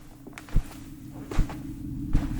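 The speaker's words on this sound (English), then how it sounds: "I heard the footsteps," Three heavy, evenly spaced footsteps thud through a low background hum, each a dull impact roughly 0.8 seconds apart, with no voices present.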